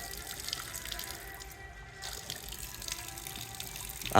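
Water runs steadily from a household tap as a constant broadband rush, close and moderately loud, with no one speaking.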